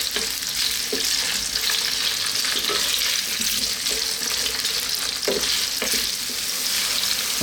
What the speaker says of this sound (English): on a medium heat, let's just cook just these 2 for about 4 minutes